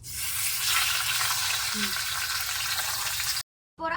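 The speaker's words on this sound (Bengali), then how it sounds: "এগুলিকে থালার মধ্যে ঘন্ট করার জন্য মাছের মাথাটা ভেজে নেব।" Fish head frying in a pan of hot oil for a village-style muri ghonto, giving a steady broadband sizzle with light stirring that cuts off briefly near the end, then resumes.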